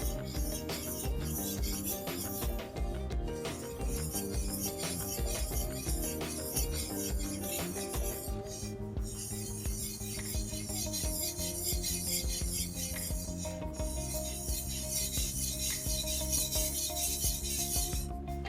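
A single-bevel Japanese kataha knife blade is rubbed steadily back and forth across a whetstone, giving a continuous close rasping scrape with a repeated stroke rhythm and no talking.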